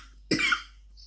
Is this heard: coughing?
yes